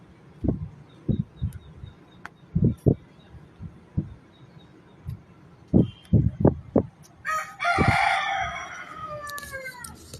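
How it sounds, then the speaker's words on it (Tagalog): Chickens cluck in short, close bursts around a home kitchen, and a rooster breaks into a loud, raspy crow near the end, with no talk over them. "Maingay yung mga manok dito sa amin."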